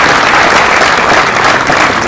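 An audience at a political party retreat breaks into loud, dense applause, a steady wash of clapping that fills the whole moment with no speech over it.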